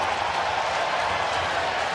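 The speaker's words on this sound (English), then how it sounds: "The cheering you hear is in Buffalo." Crowd in Buffalo cheering after an overtime goal in an ice hockey game, a dense continuous roar of applause and voices at steady loudness from start to end.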